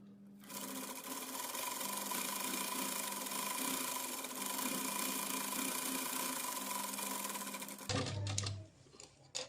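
A sewing machine stitches the corner of a salwar, a steady fast mechanical whir running for about eight seconds, then stopping with a few quieter clicks and handling noises.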